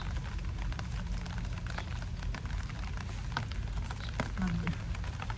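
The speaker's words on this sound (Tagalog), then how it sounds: "Umuulan." Steady rain patters and hisses continuously, with scattered sharper drips standing out against the constant wash of sound.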